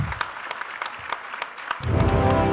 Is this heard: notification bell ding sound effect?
no